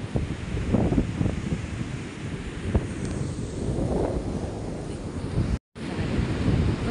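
Large waves surge and crash against a seaside house in the Philippines after flooding, a steady loud roar of surf with wind buffeting the microphone, briefly cutting out near the end.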